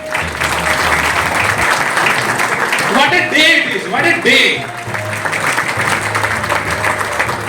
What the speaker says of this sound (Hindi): तालियां तो होनी चाहिए ना।